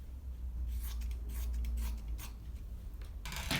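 Scissors snip through fabric while a draped asymmetric skirt is being made, giving a few short, close, dry cutting bursts over quiet room noise, with no talk.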